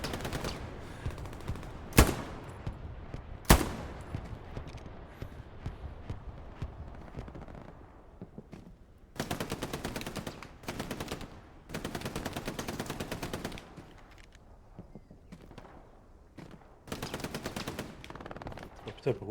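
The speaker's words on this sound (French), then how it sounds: "Ça me tire dans le dos." Gunfire in the World War II shooter game Hell Let Loose during an infantry squad battle: sharp single shots early on, then several long, dense bursts of automatic fire at moderate distance, separated by quieter stretches.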